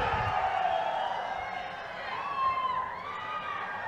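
Large crowd at a political public meeting with PM Modi in Anakapalle, cheering as one: a steady, roaring wash of voices with whoops rising and falling, continuous and somewhat distant.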